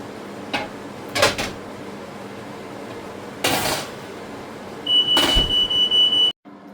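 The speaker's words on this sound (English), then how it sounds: "it's good to know my smoke alarm works" Smoke alarm set off while a cast iron griddle is seasoned with olive oil, a steady high electronic beep sounding near the end amid scattered clanks and kitchen handling noises.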